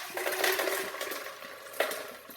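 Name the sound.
pouring liquid and ice into a Vitamix blender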